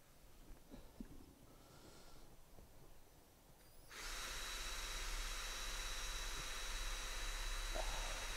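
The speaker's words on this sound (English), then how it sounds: "we're just going to get in there with a drill" After a few seconds of quiet shuffling, a power drill whirs into action up close, drilling out a pin on a David Brown 990 tractor PTO, running steadily and loudly for the rest of the clip.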